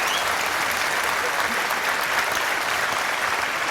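An audience at an Urdu music concert claps in sustained, dense applause that stays steady and full throughout, with no voices rising above it.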